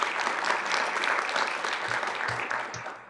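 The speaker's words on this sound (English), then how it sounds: "let's give our speakers a round of applause." Applause from a workshop audience for the speakers, a steady wash of clapping at moderate level that tapers slightly toward the end, with a few low thumps beneath it.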